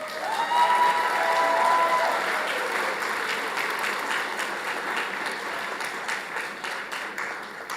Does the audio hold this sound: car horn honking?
no